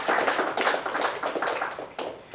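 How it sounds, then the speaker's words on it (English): Audience at a tech conference talk breaking into clapping, loud, close, uneven bursts of hands swelling and fading over a couple of seconds, with no one speaking. "yeah, please clap"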